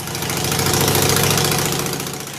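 A street motorcycle with drag pipes runs on a larger carburetor air bleed jet, giving a loud, close, throbbing exhaust note that swells briefly and then settles back.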